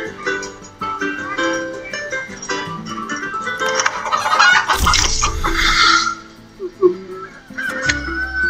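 Chickens and geese cluck and honk in a dense, busy animal chorus from the board game Castles of Burgundy, with a louder burst midway and low rumbling underneath, no talking.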